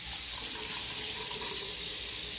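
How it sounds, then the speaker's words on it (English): A water tap runs steadily into a sink for hand washing, a continuous close hiss and splash of flowing water with no talk over it. "So first thing we're going to do is turn on the water."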